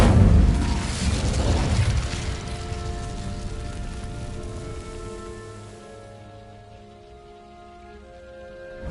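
The Incendio fire spell cast in Hogwarts Legacy bursts out as a loud, roaring whoosh with a deep boom, then crackles and fades into a lingering tonal ring that dies away over several seconds.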